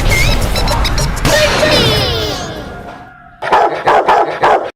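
A newly acquired dog barks in a burst of several loud, close barks near the end, after talk and clattering household noise.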